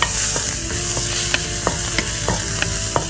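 Onions stir-fried in a hot pan over a stove for burji, a loud steady sizzle with periodic scraping strokes of a spatula stirring through it, close up and with no talking.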